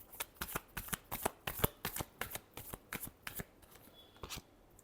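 Tarot cards being shuffled by hand in a quiet room, a rapid run of crisp riffling snaps and flutters repeating in quick bursts, close and clear with no talking.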